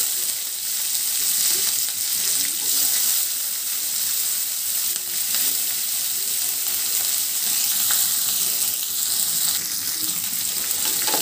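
Onions, green chillies and curry leaves frying in hot oil for a drumstick-tomato curry, a loud, steady crackling sizzle that runs unbroken throughout, with no talk.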